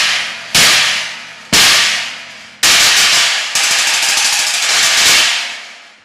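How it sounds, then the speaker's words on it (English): Stacked cracked cymbals, a 20-inch china beneath a 17-inch china, struck five times in a loose rhythm, each hit a loud, trashy, short crash that decays quickly before the next. "I'm going to put a 20-inch china that's cracked underneath this 17-inch china that's also cracked"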